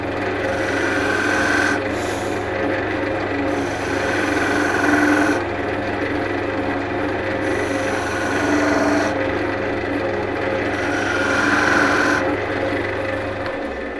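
A skew chisel point cuts grooves in softwood spinning on a lathe, making a steady rasping hum broken by repeated scraping strokes every few seconds, close and continuous with no speech.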